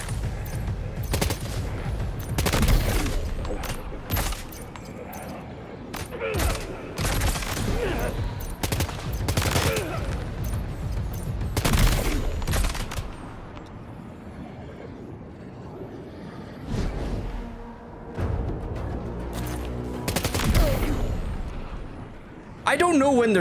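Assault rifle fire in the video game Death Stranding 2: repeated loud bursts of automatic gunfire, close and heavy, in clusters over most of the stretch with brief pauses between volleys, talk mixed in.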